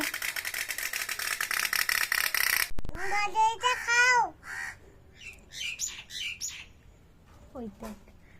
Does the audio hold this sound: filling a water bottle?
no